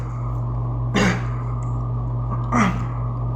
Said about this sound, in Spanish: Hoy la tos ha estado peor que nunca.